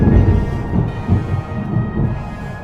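Deep thunder rolls outside during a real lightning storm, a low continuous rumble with slow surges that swells and fades for a few seconds, heard alone without voices.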